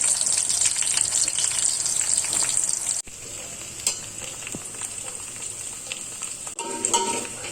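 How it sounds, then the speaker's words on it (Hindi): Onion frying in about two tablespoons of hot oil, a loud continuous crackling sizzle with brief stirring scrapes and a short dip in the middle, heard alone. "2 बड़े चम्मच तेल लिए, इसमें 1 प्याज डाल रही हूं मैं।"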